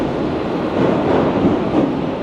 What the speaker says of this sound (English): we're definitely right underneath the train right now